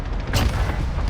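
A cruise missile strike detonates in a video game, a sudden broadband boom about a third of a second in that rolls into a sustained low rumble over dense background noise, no voices.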